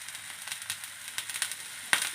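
Banana dosa batter cooking on a hot pan, giving a faint, soft sizzle and light crackle close by, with no talk.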